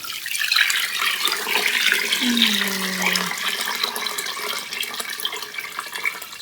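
Dirty washing water drains away after a soak, a steady broadband rush and gurgle that runs the whole stretch, with a brief low tonal hum partway through.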